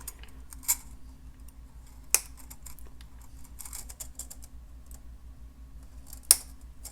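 Wire cutters snip beading wire for a Czech glass choker necklace, three sharp isolated clicks spaced a second or two apart over faint handling rustle.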